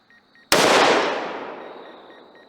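A single loud, sharp report from a Ruger precision rifle, close by, with a long rolling echo fading over about two seconds.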